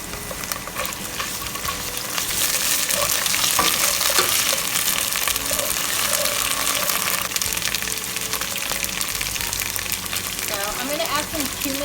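Two tablespoons of garlic fry in hot oil for a Fijian-style chicken curry, a steady loud sizzle with scraping stirs, and a voice talks over it.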